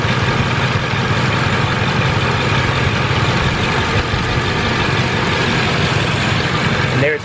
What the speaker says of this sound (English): So this thing's only running on 7 cylinders.